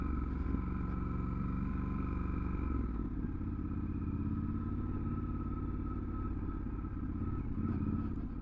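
A Triumph Scrambler 1200 XE motorcycle rides off-road as its rear wheel spins, the engine droning steadily and loud at close range throughout, with some rattling clatter from the bike over the terrain.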